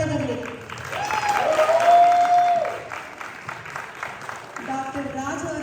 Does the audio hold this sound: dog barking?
no